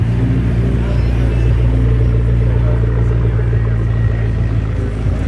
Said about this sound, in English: Speak of the devil, we got a 12C.